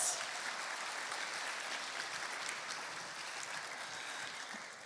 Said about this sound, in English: Everyone give Edgar a round of applause.